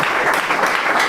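A short burst of audience applause, loud and dense for about a second with a faint voice underneath.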